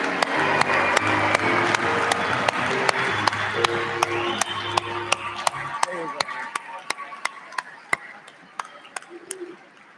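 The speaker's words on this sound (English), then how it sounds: "a huge round of applause" Applause for the Stockton University class of 2021 at a commencement ceremony: a broad wash of clapping from a large crowd, loud and sustained for several seconds before thinning out into scattered claps.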